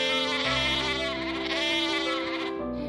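A herd of goats kept by a village shepherd bleats in a steady, loud, continuous chorus of wavering cries that fades at the very end.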